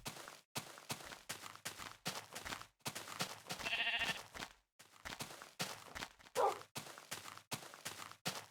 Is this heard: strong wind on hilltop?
no